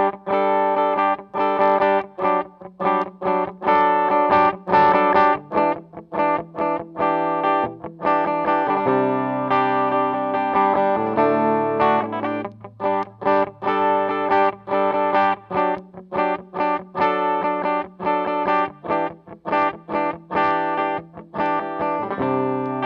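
Distorted electric guitar through an amp plays choppy riffs and sustained chords, steady and loud, with effects-laden tone and no voices.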